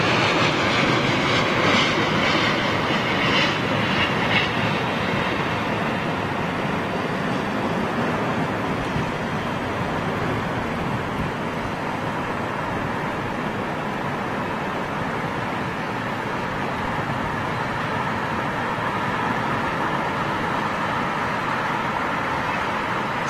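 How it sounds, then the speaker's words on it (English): An Etihad Airbus A380 jet lands, its loud, continuous engine and airflow roar filling the air evenly from start to finish, with no voices over it. "is that Etihad's 380 inbound?"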